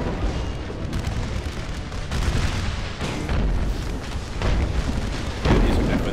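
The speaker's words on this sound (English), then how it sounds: "Yeah, these are definitely the mortars. Oh, massive mortar hit." Mortar shells burst in an American Civil War battle game, a continuous rumble of booming impacts with a heavy hit near the end, all without talk.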